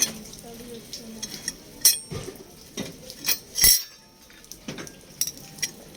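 Stainless steel forks clink and rattle against one another in a series of sharp, irregular taps, close by and fairly loud.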